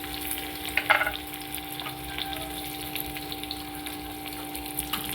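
Byadgi red chillies tossed into hot oil with reddened garlic and green chillies for a lasuni palak tempering, giving a steady close sizzle with a short crackling burst early on, no voices.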